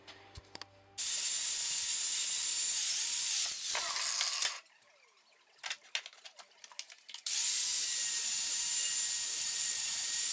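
A John Deere 100 series mower blade being sharpened, likely on a bench grinder, giving loud, steady grinding hiss in long bursts with a quieter break of scraping and clicks between them.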